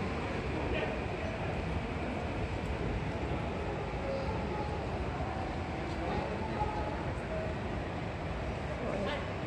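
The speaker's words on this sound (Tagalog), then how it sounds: "nanahimik na ang ingay ng train kaya makakapagsalita na" A train rumbles past in Tokyo's Okachimachi district, a steady, loud, broadband roar that fills the whole stretch without a break, with faint bits of background activity mixed in.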